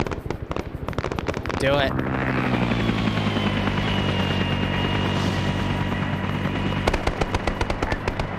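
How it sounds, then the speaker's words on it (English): Grenade barrage in a Vietnam war video game: a rapid, dense run of blasts and crackling detonations over a heavy helicopter drone, with brief voice chatter in between. "Yep, they're dropping grenades."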